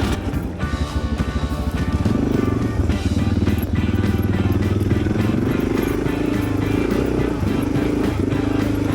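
A Suzuki DR 650 dual sport motorcycle climbing a dirt hill, its single-cylinder engine throbbing loud and close, revving up after a second or two and holding a steady strained drone.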